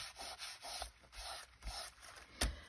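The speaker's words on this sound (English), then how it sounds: "I want to rub a little bit of that white off" Dry rhythmic rubbing of a rub-on transfer to lift white paint, about five steady strokes close to the mic, quiet and scratchy with no talking and a brief sharp knock near the end.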